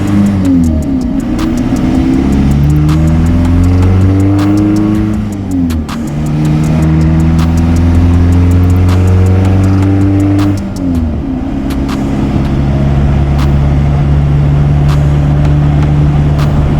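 A Toyota TDI diesel fitted with an aftermarket camshaft accelerates on the road, its engine climbing through repeated rising revs with brief drops at gear changes, loud and close.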